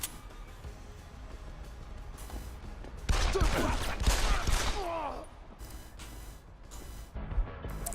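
Pistol gunfire in the Deus Ex: Human Revolution video game, a cluster of sharp shots and impacts in the middle over game ambience, with a player talking quietly.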